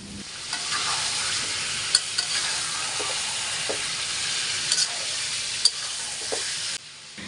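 Broiler chicken pieces and potato chunks frying in oil in a pan, a continuous loud sizzle with occasional stirring scrapes and small pops throughout, no talking.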